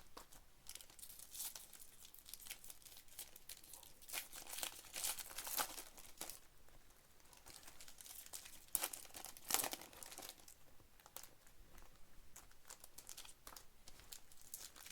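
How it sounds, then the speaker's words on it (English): Panini Donruss baseball hobby card packs being ripped open, steady close crinkling of foil wrappers with sharper tearing bursts around the middle, no talking. "They rip easy, but they don't rip clean as Heritage."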